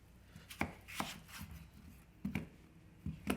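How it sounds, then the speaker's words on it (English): Knife chopping through a peeled potato on a cutting board, several crisp separate thunks spaced irregularly, close and quiet, with no talking. "Then I'm going to go ahead and cut the potato."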